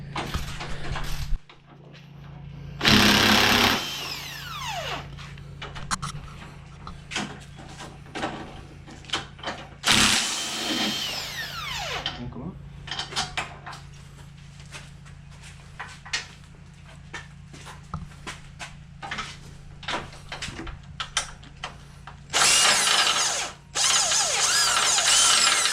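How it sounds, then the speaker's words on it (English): A power tool removing shock absorber bolts and nuts on a 1993 Chevy K1500 during a lift kit install, with loud bursts of whirring at intervals among softer clicks and clanks from the work. "right now they're removing the 2 bolts, and they have nuts in the bottom here."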